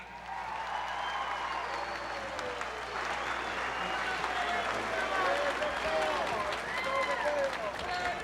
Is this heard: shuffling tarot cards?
no